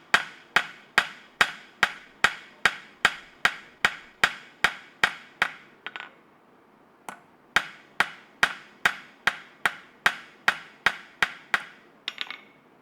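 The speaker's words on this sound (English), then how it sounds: "I'm going to take this rounding hammer" Rounding hammer (ball peen) striking hot metal at a forge demonstration, ringing blows in a steady rapid rhythm, a brief pause near the middle, then another run of evenly spaced strikes, close and loud.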